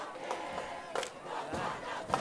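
Heights high school football crowd in the stands at a game against Wichita North, a chant of rhythmic shouts rising and falling in bursts from a distant crowd.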